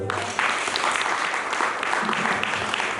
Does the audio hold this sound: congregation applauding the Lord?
yes